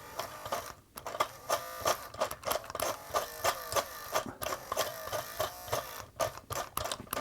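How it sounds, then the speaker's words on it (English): A Pfaff Tipmatic toy sewing machine's small electric motor runs with a buzzing, uneven whir, its loose gear slipping on the shaft and producing irregular stuttering bursts and brief dropouts, close and alone. "The motor's running, but I think the little gear is slipping on the shaft there."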